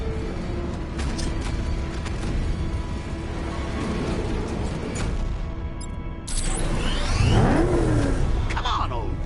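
Engine in Batman: Arkham Knight, likely the Batmobile, rumbles steadily under game speech and alarms, then surges louder near the end with a rising rev and mechanical whine.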